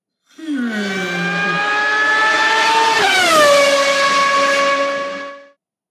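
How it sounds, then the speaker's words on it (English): A Formula 1 race car sound effect plays as one loud, close, sustained engine whine. It climbs in pitch, shifts sharply partway through like a gear change, keeps howling and then cuts off, with no voices. "Cue F1 sound effect."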